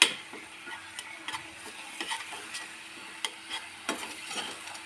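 Chicken with homemade garam masala, green chillies and chilli powder frying in oil on low heat; a close, soft sizzle broken by repeated stirring scrapes and light utensil clicks against the pan, with no talk.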